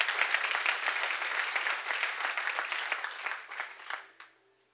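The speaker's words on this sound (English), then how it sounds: "give the Lord a big hand clap" A church congregation at an evening service claps hands together in sustained, dense applause that thins and fades out near the end, leaving near quiet.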